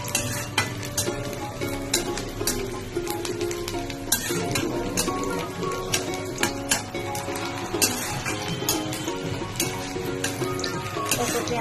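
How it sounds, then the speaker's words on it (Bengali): Onions frying in white oil, crackling and sizzling continuously while a spatula clinks and scrapes against the pan in an uneven rhythm, heard up close. "পেঁয়াজগুলো ভাজা হচ্ছে।"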